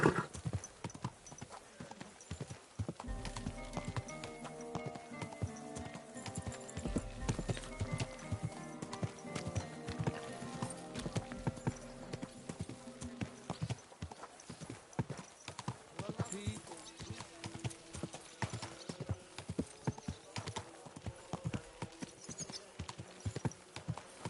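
A horse's hooves clip-clopping at a slow walking pace in the video game Kingdom Come: Deliverance II, steady and close, mixed with game music and someone talking over it.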